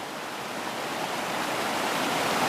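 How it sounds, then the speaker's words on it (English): Steady, close, broadband rush of the Leven River pushing down its channel on a still, cold morning, continuous and unbroken with no voices. "There's still a fair bit of water pushing down here."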